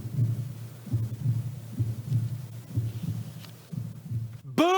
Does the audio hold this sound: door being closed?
no